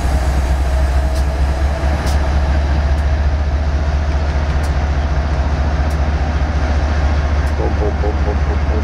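A train rolls along steadily, its low rumbling drone continuous and fairly loud, with faint clicking rail noises layered on top.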